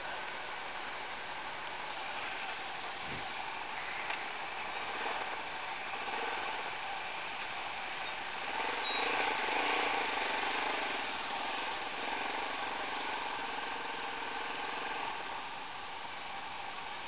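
A Yamaha MT-03 motorcycle engine runs steadily while riding, a continuous moderate drone with wind noise that swells slightly mid-way, with no talking.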